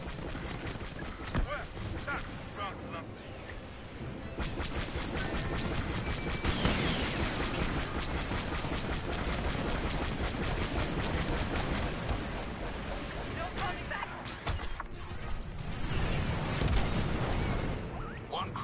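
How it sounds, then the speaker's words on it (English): Dense, continuous rumbling booms and crackling blasts as a space cruiser explodes in a Star Wars Battlefront II battle, loud and layered throughout, with a voice speaking at moments amid the chaos. "One cruiser down. Explosions look so good."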